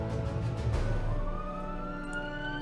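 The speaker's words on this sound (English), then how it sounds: "You can hear the siren in the background." A siren wails in the distance with a gliding tone, steady and moderately loud over a low rumble of traffic or machinery.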